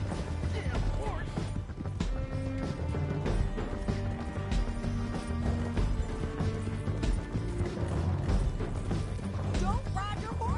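Horse hooves clip-clopping in Red Dead Redemption, a steady rhythmic beat under busy game music, mechanical clatter and voices throughout.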